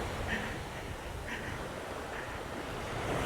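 Ocean waves break and wash onto a tropical beach at Bamboo Beach, Koh Lanta, Thailand, as a steady, fairly soft rushing surf mixed with wind buffeting the microphone, with no talk.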